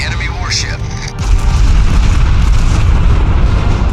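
Iowa battleship main guns firing a salvo in World of Warships: a quieter stretch gives way to a loud, deep, rumbling boom near the one-second mark that rolls on as a sustained heavy roar.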